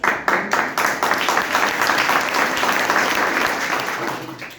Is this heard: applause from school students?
yes